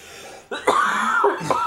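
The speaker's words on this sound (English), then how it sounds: "See? You cough." A person coughs sharply a few times, close and loud, in rough throaty bursts with brief gaps between them.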